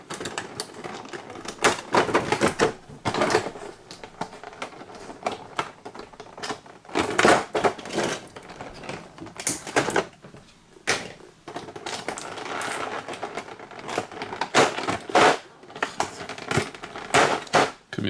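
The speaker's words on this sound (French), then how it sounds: "Couper les scotch." Repeated bursts of scraping and tearing as packing tape is cut and pulled on a cardboard box, with short pauses between strokes.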